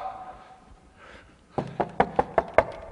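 Knocking on a door: five sharp knocks in a quick, steady rhythm follow a moment of faint background murmur, fairly close and distinct.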